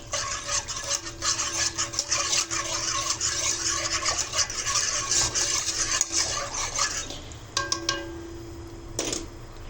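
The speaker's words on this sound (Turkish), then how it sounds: "Topaklık kalmayana kadar karıştıracağım." Steady scraping stir of a spoon through a pot of sugar and flour pudding mixture on the stove, continuous rubbing strokes close by, easing off near the end.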